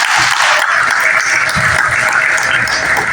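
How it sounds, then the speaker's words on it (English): Crowd at an Eritrean community graduation ceremony in Oakland applauds the families: loud, continuous dense clapping with cheering, sustained and close throughout. "So can we clap it up for the family"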